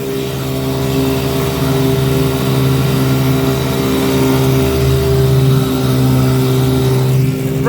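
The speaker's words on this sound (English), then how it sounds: "Motor runs really good." A bass boat's outboard motor runs steadily under a heavy load, plowing through the water without getting up on plane. The engine drone stays loud and close for the whole stretch, with no voices over it.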